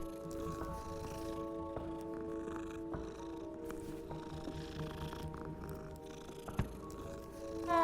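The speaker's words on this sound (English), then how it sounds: "how many cats you got" Cats in Hogwarts Legacy purr in a steady, close drone, with short meows breaking through now and then. Faint background ambience sits underneath.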